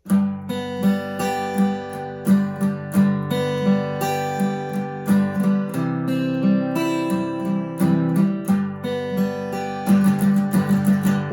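An acoustic guitar strums chords in a steady rhythmic pattern, clear and close, with no voices.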